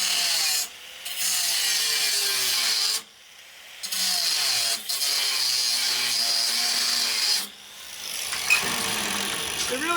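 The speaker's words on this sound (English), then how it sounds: "I'm gonna use a grinder. It's just an angle grinder." An angle grinder cuts through steel in a workshop, a bright, high-pitched whine broken into bursts by short pauses, loud and close with no talk over it.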